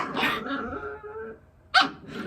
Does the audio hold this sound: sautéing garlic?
no